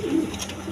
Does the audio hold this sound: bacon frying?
no